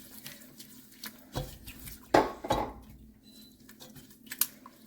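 A spoon stirs taffy ingredients with salt and corn syrup in a pot, making a few close clinks and scrapes against the metal between quieter pauses.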